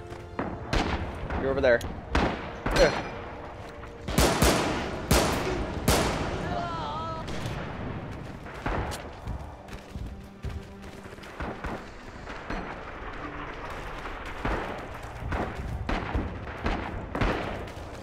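Gunfire in the World War II shooter game Rising Storm on the Saipan map, with sharp rifle and pistol shots and bursts in rapid clusters, some close and loud and others more distant, while a player talks over the action.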